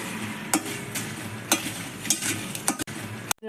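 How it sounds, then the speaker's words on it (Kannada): About twenty dried Guntur red chillies roast in oil in a pan, giving a steady close sizzle broken by several sharp clicks and scrapes of stirring. "ಒಣಮೆಣಸು ಹಾಕ್ಕೊಳ್ಳೋಣ ಕಾಯಕ್ಕೆ ನಾನೊಂದು ಇಪ್ಪತ್ತು ಒಣಮೆಣಸು ತಗೊಂಡಿದ್ದೀನಿ ಗುಂಟೂರು ಮೆಣಸು ತೊಗೊಂಡಿದ್ದೀನಿ"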